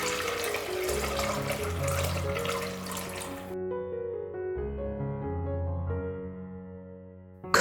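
A hot milk and egg cream mixture is poured through a strainer into a saucepan, giving a soft continuous trickling flow that stops partway, with quiet music underneath.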